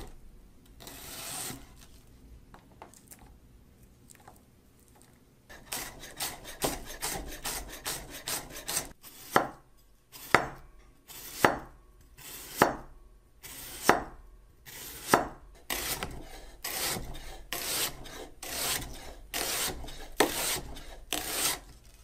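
A freshly sharpened kitchen knife slices through food on a wooden cutting board in a steady run of crisp, regular strokes that grow louder and more rhythmic, each cut landing with a distinct tap on the board.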